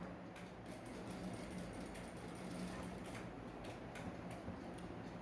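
A sewing machine runs quietly while stitching a notched camp collar, a soft steady mechanical whir with faint repeated clicks and no talking.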